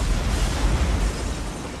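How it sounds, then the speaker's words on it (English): In the video game Batman: Arkham Origins, an explosion at the Gotham Royal Hotel gives a short, loud, booming burst of noisy rumble that holds briefly and then eases slightly, with no voices. "there has just been a massive explosion"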